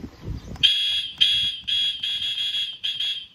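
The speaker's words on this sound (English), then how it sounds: "Let's start with the horn, see what it sounds like." A loud, piercing electronic boat horn blasts in six bursts of varied length, a harsh buzzing tone close by with brief gaps between.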